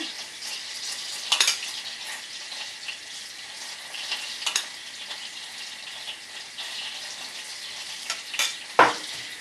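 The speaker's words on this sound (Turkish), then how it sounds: "bu esnada yağımdan sesler geliyor" Hot oil sizzling and crackling steadily in a pan, readied as a topping for manti with yogurt, with a few sharper pops and spits rising above the continuous close fry.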